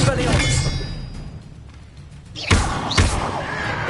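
An Expelliarmus spell is cast in a Harry Potter video game, with whooshing magical energy, then two sharp impact slams about half a second apart, loud and close over a busy game soundscape.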